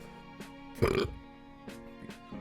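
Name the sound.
burp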